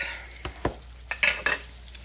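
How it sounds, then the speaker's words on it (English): Cornmeal-battered green tomato slices fry in oil in a skillet, with a low sizzle under a few sharp clinks and scrapes of utensils against the pan. "I got a few more to dip here that I'll get laid out while these are frying."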